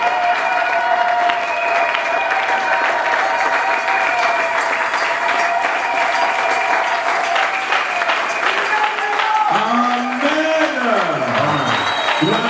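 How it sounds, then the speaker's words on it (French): A church congregation applauds during a French-language worship service, continuous lively clapping mixed with voices and sustained tones, then a voice rises and falls over the clapping near the end. "Applaudissons le Seigneur."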